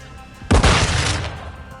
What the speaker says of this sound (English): he's using the shotgun